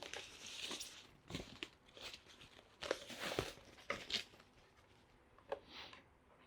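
Paper crinkles and rustles in bursts as sheets are pulled free from the packaging of an M-Audio Air Vocal Studio Pro recording bundle, close up, with no voices.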